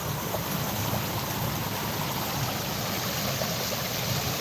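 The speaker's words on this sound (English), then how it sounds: "There's just so much fucking water." Floodwater rushes along a street and overruns a sewer beside the sidewalk, a loud, constant broadband roar of churning water that stays steady from start to finish with no voices.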